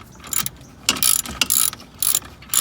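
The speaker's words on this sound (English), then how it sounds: "Once you get this bolt in, just go ahead and tighten it up." Hand wrench ratcheting as a bolt is tightened on a Skunk2 rear camber kit being installed on a Honda Civic, with short bursts of close mechanical clicking separated by brief pauses.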